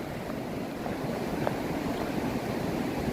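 Atlantic Ocean surf curls and breaks along Atlantic Beach, Florida, a continuous washing roar with a gentle swell in loudness. A little wind rumble sits underneath and there is no talk.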